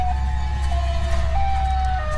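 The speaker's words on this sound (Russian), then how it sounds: "Этот звук, звук сиреноголового." The Siren Head siren from a horror film sounds as a steady, wavering tone with small pitch steps over a low rumbling background, loud and continuous, without talk.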